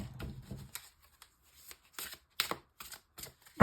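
Guardian-angel tarot cards shuffled by hand for a reading: quick, close bursts of riffling and soft card slaps with brief pauses between them, and no talking.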